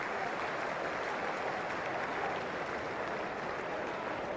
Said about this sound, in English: Standing ovation on the way out